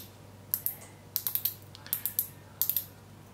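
Wire turned into the back of a wind-in meter seal's winding mechanism gives short bursts of crisp, close clicking, three or four quick ticks per burst, in four separate groups with pauses between.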